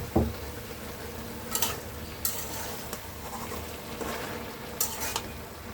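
Leafy greens fry in a pan while being stirred, a soft sizzle running underneath a few sharper scrapes and clatters of the utensil. No one speaks.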